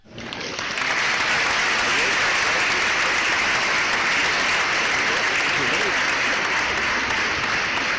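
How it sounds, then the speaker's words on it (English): An applause machine plays a recorded round of applause. The dense, crowd-like clapping swells in quickly and then holds loud and steady for several seconds without a break. "it's an applause machine, too"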